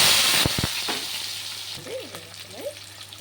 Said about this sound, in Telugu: ఇప్పుడు ఉల్లిపాయలు వేసుకుంటాం.